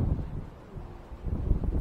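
Gusty wind buffets the microphone with low, rumbling blasts that swell and ease, loud and close, with no voices.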